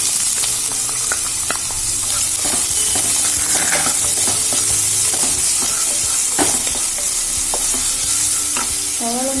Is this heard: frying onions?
yes